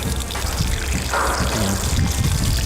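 Water pours steadily from a ranch storage tank into a livestock trough, a continuous splashing, trickling stream heard close and alone throughout.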